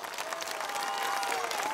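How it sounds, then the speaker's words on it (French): A crowd in Moreuil, France gives dense, sustained applause for performers at their first European show. The clapping is loud and continuous for the whole short stretch. "Alors Moreuil, on les applaudit comme il se doit."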